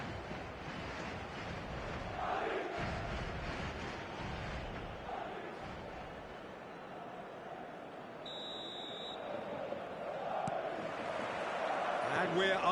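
Broad stadium crowd roar in an eFootball match on PS5, a steady wash of cheering and chanting from a large crowd that swells slightly toward the end, with faint commentary underneath.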